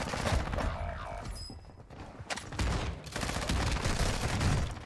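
Gunfire from a pump shotgun in a video game, several loud sharp blasts in quick succession among dense game effects, ending in a sustained noisy burst.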